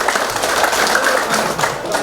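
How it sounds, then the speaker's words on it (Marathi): Audience clapping fast and steadily at full speed during a motivational speech event, a dense continuous patter of many hands filling the whole moment. "जितकं स्पीडनं वाजवत नाही तेवढ्या टाळ्या वाजवायच्या"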